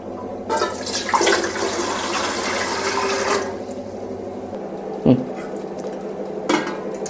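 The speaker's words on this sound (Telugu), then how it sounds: "ఇట్లా ఇడ్లీ పాత్రలో మనం వాటర్ పోసుకోవాలి" Water is poured into an idli steamer pot for stuffed broad-bean kudumulu, a full close gush for a few seconds, then quieter rinsing with a couple of sharp metal clanks from the pot.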